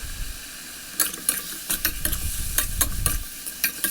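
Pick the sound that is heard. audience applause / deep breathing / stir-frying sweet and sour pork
stir-frying sweet and sour pork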